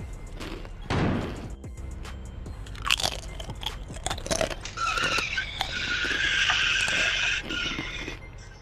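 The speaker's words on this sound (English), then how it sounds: "Those must be Doritos, huh?" Doritos tortilla chips crunch up close, with a sharp rustling burst early on and later dense crackling bites and chewing, alongside a few thumps from gaming.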